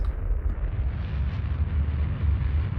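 Steady rocket engine burn in Kerbal Space Program, a loud, continuous low roar and rumble holding at an even level throughout with no pauses.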